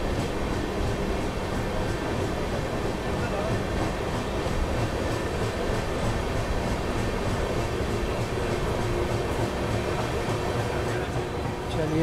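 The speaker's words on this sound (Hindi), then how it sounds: "चलिए जी, निकल चुकी है हमारी ट्रेन यहाँ भारूच जंक्शन रेलवे स्टेशन से" Garib Rath express train pulling out of Bharuch Junction station in Gujarat, a continuous loud rumble of wheels and carriages with rhythmic clatter, heard from on board.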